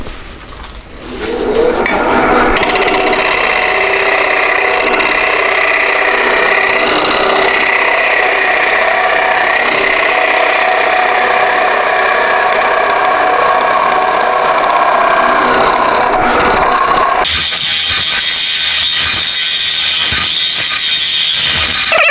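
A wood lathe spins a natural edge hollow form while a hollowing tool cuts inside it, giving a loud, continuous scraping and grinding hiss that swells in after a quiet start and shifts to a harsher, rougher texture near the end.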